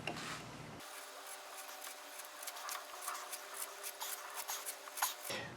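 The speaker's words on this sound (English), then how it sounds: "all we're doing is just counterboring the hole." Hand counterboring of the oil drain plug hole on a Harley-Davidson Softail Fat Boy, a steady scraping and rasping of the cutter against metal that continues for several seconds, close and fairly faint, with no talking.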